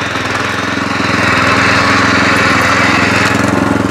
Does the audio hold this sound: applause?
no